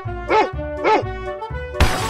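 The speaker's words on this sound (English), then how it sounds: "Dog." A dog in an animal escape-room guessing game barks twice, close and clear, then a brief louder noise burst follows.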